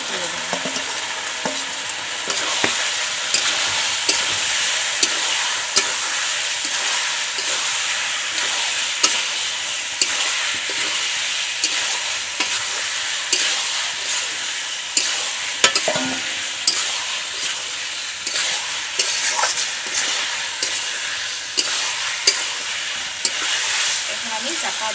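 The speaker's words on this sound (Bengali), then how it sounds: "এখন আমি ম্যারিনেট করা মাংসগুলো দিয়ে দেবো" Marinated village-style desi chicken fries with potatoes in a pan, a loud continuous sizzle with repeated scraping stirs at a steady rhythm, close up and without talk.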